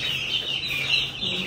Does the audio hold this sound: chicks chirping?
yes